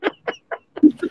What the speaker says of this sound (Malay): Ada ayam Ustaz.